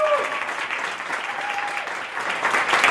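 A theatre audience at a charity comedy show breaks into loud, sustained applause, a dense close wash of clapping with a voice briefly heard over it.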